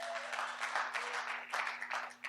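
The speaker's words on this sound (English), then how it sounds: "Give him a round of applause." Brief, modest applause from a small audience at a workshop after a juggling demonstration, scattered claps over a steady low hum.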